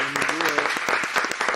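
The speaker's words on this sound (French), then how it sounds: "on peut applaudir pour lui" Audience applause, a dense steady wash of clapping with a few voices and cheers mixed in, loud and close.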